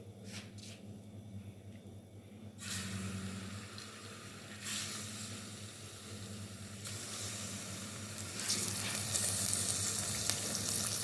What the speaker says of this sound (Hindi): और इसमें अब हम ये मुर्गी का गोश्त साथ ही डालेंगे।